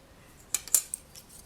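A metal bracelet cutter presses through polymer clay, giving a few quick, light metallic clicks close by in an otherwise quiet room.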